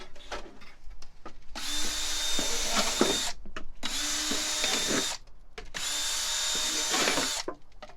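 A power drill bores drainage holes through the bottom of a plastic jug in three long, loud whirring bursts separated by brief pauses, close and without talk.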